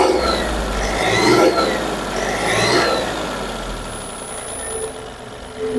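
A Mahindra Xylo's engine is revved, with low mechanical rumble swelling twice and then settling back toward idle, close and fairly loud.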